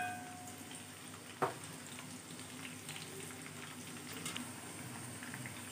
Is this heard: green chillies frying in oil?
yes